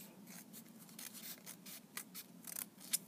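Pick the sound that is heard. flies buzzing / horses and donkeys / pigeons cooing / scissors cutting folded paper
scissors cutting folded paper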